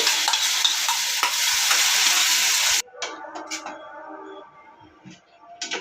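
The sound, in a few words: pineapple paste frying in ghee on a tawa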